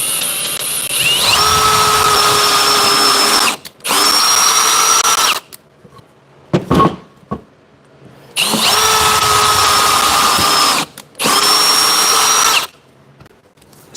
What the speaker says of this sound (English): I prefer to use this to drill through.